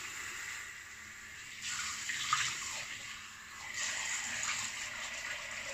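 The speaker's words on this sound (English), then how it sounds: "All right, cold water rinse." Cold water runs from a tap in a steady broadband rush for a rinse during a wet shave with a Pino Silvestre set, swelling louder twice as the flow changes, with no talking.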